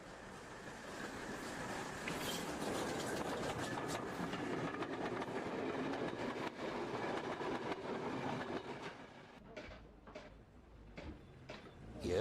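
A train running on a preserved steam railway branch line, a loud, continuous rumbling roar with rhythmic clicking of wheels over rail joints that thins out near the end into scattered knocks.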